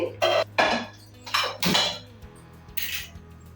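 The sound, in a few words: pan being taken and handled for frying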